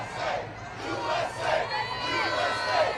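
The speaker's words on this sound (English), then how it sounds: "Listen to the cheers." A large outdoor crowd cheers and chants in rising and falling waves as President Trump exits. The roar sounds moderately distant.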